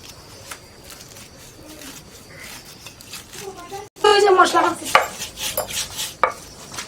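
Moringa (drumstick) leaves being cut in a home kitchen, with rustling, scraping and clinking of utensils that turn busier and louder partway through; someone talks over the work and a voice joins in.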